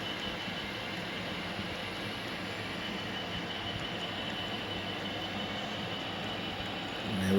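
An HO scale model train pulling a CP caboose rolls along the track with a soft, steady, continuous rumble, faint and heard alone without voices.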